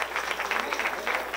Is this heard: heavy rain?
no